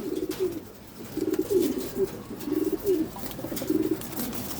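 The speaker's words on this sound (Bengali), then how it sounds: "অনেক কবুতর আছে, পেডিগিরি আছে, পেডিগিরি ছাড়া আছে, অনেক বেবি আছে।" Racing pigeons, pedigree and non-pedigree birds with young ones in a loft, coo in a steady repeated rhythm of soft low rolling calls, close and clear over a faint background hum.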